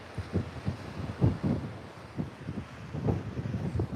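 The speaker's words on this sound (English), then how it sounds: "It's a bit windy up there." Gusty wind at an exposed coastal lookout buffets the microphone, producing a steady rushing noise with repeated low, thumping gusts over four seconds and no talking.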